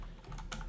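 A few quick keystrokes on a computer keyboard while entering a search into the Chrome Web Store search box, soft and close, with a brighter tap near the end and no talk.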